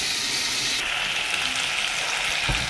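Steady, close sizzling of diced potatoes with salt and turmeric frying in hot oil, a continuous bright crackle with a soft knock near the end.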